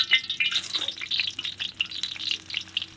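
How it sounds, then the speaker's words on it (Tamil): Whole spices crackle and pop in hot oil in a kadai during village-style cooking, a busy stream of sharp, bright spits and sizzles close up with no talking. "இப்போ நல்லா எண்ணெய் காஞ்சிருச்சு. அது கூட இப்போ பட்டை வகையெல்லாம் சேர்த்துக்க போகிறோம்."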